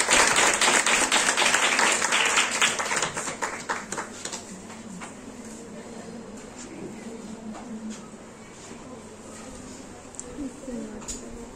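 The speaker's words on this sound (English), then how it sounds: "So, welcome him by giving a huge round of applause." An audience at a lecture on space research breaks into a dense round of applause, loud at first and then thinning out to scattered claps while a voice starts speaking over it.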